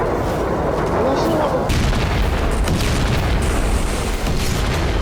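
Ballistic missile launched from an Iranian warship: a loud, sustained roaring rush with a deep rumbling boom that swells and fills the clip, continuous and close.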